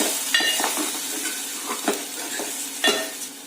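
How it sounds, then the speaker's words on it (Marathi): A spoon stirs turmeric into hot oil seasoning for Konkani-style godi dal, with a soft continuous sizzle and a few distinct scraping strokes against the pan, close and with no talk. "त्याच्यानंतर थोडीशी हळद टाकायची, ती पण चांगली व्यवस्थित मिक्स करून घ्यायची।"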